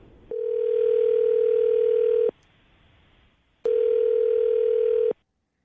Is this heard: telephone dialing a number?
yes